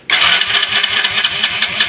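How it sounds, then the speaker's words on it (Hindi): A motorcycle's electric self-starter cranks continuously with a fast, regular churning rhythm, loud and close, while the engine fails to start. "सेल्फ काम कर रहा है मगर बाइक स्टार्ट नहीं हो रहा है।"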